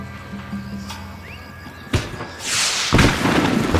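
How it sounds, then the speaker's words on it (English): Fireworks burst in a favela setting in the PC video game Max Payne 3, a few thumping booms and crackling bursts growing denser and louder toward the end, with no talk. "The fireworks display was clearly in my honor"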